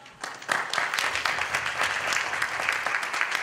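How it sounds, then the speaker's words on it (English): Full audience applause at a panel discussion welcoming a speaker, rising sharply after a brief quiet start and continuing as a thick, even wash of clapping. "Give a round of applause."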